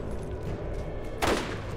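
Bursts of gunfire in the shooter game Borderlands, with a sharp loud shot standing out near the end over a steady background of game ambience.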